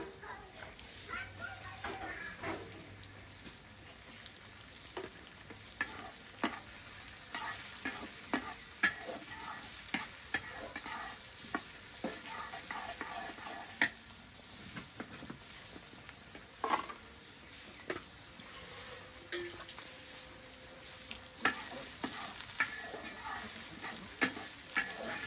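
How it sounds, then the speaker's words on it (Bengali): Prawns and onions fry in soybean oil, a low constant sizzle broken by repeated sharp scrapes and clacks of stirring, with faint talk and children's voices in the background. "চিংড়ি মাছগুলা তেলের লগে দিয়ে ভাজা ভাজা করুন।"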